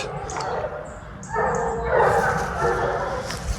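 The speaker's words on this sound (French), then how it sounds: "Les chiens sont dans les ronces à ta gauche là." Hunting dogs chasing wild boar in brambles give excited yips, barks and whimpers in bursts, mid-distance, during a French running-hound hunt.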